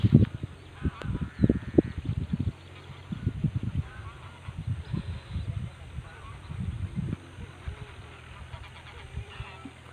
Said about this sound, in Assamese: বিভিন্ন ধৰণৰ চৰাই চিৰিকটি।